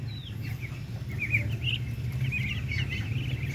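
Young Darag native chickens on a farm give soft, repeated high chirps over a low steady hum, fairly close, with no talk.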